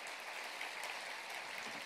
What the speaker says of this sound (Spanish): dale un aplauso al rey. Un aplauso.